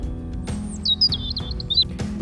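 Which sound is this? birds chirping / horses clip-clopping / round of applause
birds chirping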